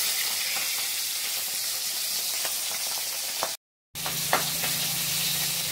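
Pabda fish fry in hot oil in a kitchen pan, sizzling loudly and steadily with sharp pops and spatters throughout, broken by one brief silent gap.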